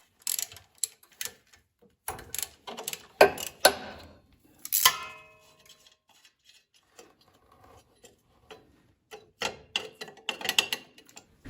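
Ratchet wrench loosening bolts on the engine plate of a Tecumseh snow blower, with bursts of rapid metallic clicking, close and fairly loud, separated by pauses.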